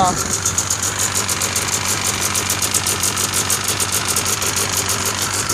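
A 1993 Yamaha Exciter snowmobile with no electric start runs at a steady, slightly uneven idle, loud and close for the whole stretch with a buzzy mechanical rattle.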